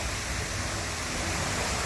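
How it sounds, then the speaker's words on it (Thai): Waterfall inside a Thai temple cave, a steady broadband rush of falling water filling the space without break, loud and close, with no voices over it. "ตรงนี้ก็จะมีน้ำตก ธรรมชาติสวยงามมากนะครับ"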